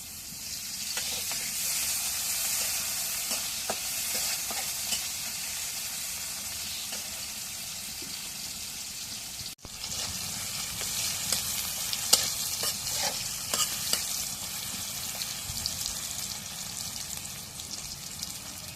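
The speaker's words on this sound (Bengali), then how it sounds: "এখন পেঁয়াজটা তেলে ভাজা হয়েছে" Chopped onions fry in oil in a wok over a stove flame, a steady hiss of sizzling with scraping stirs throughout, close and alone with no talk.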